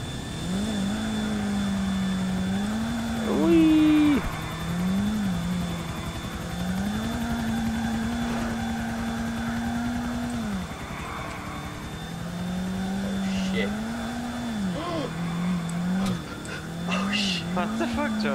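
An airplane engine in GTA 4 drones steadily as a vehicle drifts under it, its pitch rising and dipping in long sweeps, with a sharper whine partway through and voices talking over the top.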